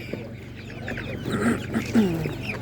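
Young roosters at an animal market give soft clucks and short calls close by over a busy low background murmur.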